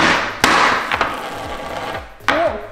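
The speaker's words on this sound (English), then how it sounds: "I'm just swinging the hammer" Hammer blows smash a block of dry ice into chunks on a countertop, three sharp impacts spaced about a second apart with crunching and clatter in between, close and loud.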